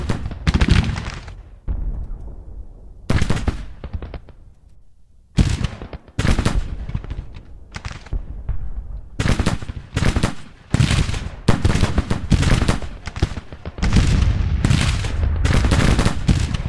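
Battle gunfire and artillery from the Grand Tactician: Civil War strategy game: dense bursts of musketry and booming cannon fire come in repeated loud volleys, separated by brief lulls, with no talk.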